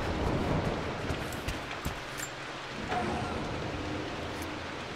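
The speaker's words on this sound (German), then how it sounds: "Hier regnet sogar rein." Rain and rolling thunder in the Rise of the Tomb Raider video game make a continuous wash of falling rain with low rumbles and a few sharper crackles, heard steadily without talk.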